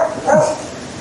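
A dog gives one short, close bark or yip, one of the dogs left barking next door to a renovation site in Hoi An, Vietnam.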